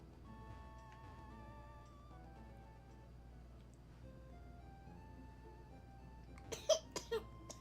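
A baby coughs in a short burst of several loud, close coughs near the end, after a stretch of quiet room hum with faint tonal background sounds.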